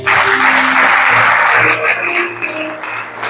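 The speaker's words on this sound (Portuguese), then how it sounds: "Aplauda o Senhor Jesus." A church congregation applauds the Lord Jesus during an Easter service, a dense, loud wash of clapping that carries on steadily over sustained keyboard or organ tones.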